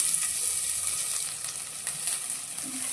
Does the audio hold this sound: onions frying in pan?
yes